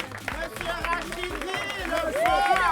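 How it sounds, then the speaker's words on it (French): Audience applause breaks out to welcome a guest at a house competition finale, dense clapping with crowd murmur and a raised voice calling over it throughout. "Est-ce qu'on peut faire un tonnerre d'applaudissements pour accueillir Monsieur Rachid?"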